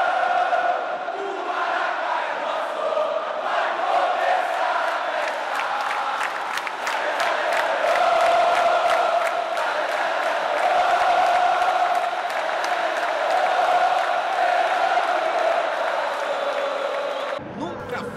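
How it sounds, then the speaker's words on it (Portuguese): Stadium crowd at Maracanã cheering for Flamengo against Coritiba in the football video game PES 2017, a loud sustained roar with chants, whistles and claps, steady before cutting off near the end. "A torcida vem em peso, estádio Maracanã."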